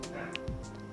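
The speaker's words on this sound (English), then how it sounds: "I think you can hear the dog barking" A dog heard briefly, one short yip or bark in a one-second moment, indoors and close, with a voice underneath.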